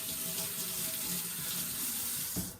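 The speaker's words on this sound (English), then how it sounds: "let me just rinse my hands" Tap water runs steadily into a kitchen sink as hands are rinsed under it, a continuous close hiss and splash for the whole stretch with a brief knock near the end.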